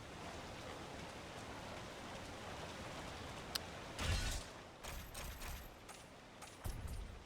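Constant rainfall hisses in the Lord of the Rings: War in the North game world, broken partway through by a few dull thumps and rustles.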